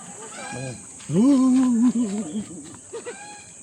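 Loud, honking harmonic calls from nearby geese on a farm in Indang, Philippines, a long drawn-out cry followed by shorter wavering honks, with softer calls before and after.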